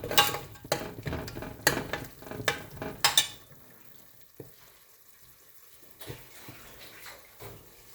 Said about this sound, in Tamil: ஸோ இது கொஞ்சம் வேகட்டும் இந்த மசாலா